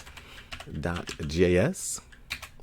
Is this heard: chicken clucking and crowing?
no